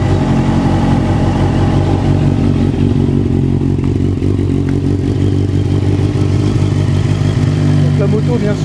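A Honda CB650F motorcycle engine runs steadily at a low, throaty idle with mechanical clatter, loud and close, with a voice speaking over it.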